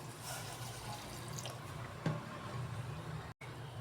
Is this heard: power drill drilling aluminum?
no